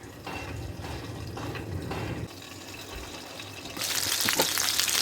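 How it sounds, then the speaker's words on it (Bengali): Small jatka hilsa fish fry in oil on low heat, a steady close sizzle that shifts level partway and grows brighter and louder near the end. "একদম লো আছে মাছটাকে ভাজি করতেছি, যাতে মাছটা নরম থাকে এবং ভাজিও হয়"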